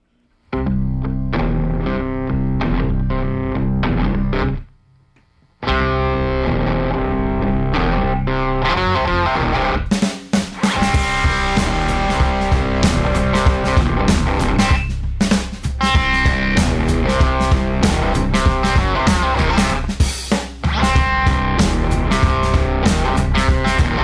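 Rock song played over radio: a distorted, layered band intro that drops out briefly near five seconds, then builds into a loud full-band section with heavy drums and guitars.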